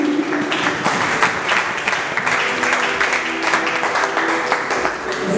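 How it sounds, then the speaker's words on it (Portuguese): A church congregation at an international conference crusade in Angola bursts into loud, sustained applause, dense clapping throughout with a faint crowd murmur beneath. "Você pode dar uma linda salva de palmas para Jesus?"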